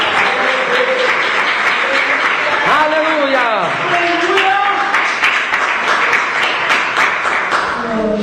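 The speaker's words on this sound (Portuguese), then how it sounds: "Pode bater as palmas com glória a Deus." A church congregation claps and applauds continuously, a dense, close wash of hands under voices speaking and exclaiming throughout.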